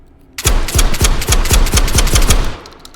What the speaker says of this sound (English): 50 round shotgun drum